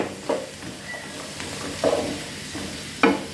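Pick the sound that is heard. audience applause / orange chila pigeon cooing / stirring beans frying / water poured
stirring beans frying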